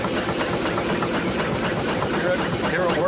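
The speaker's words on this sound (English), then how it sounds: "you'll hear the difference as the engine has to pump those against boiler pressure" A 1906 Stanley Steamer steam car engine chugs steadily and loudly up close, a continuous laboring pulse as it pumps against boiler pressure, under faint background voices.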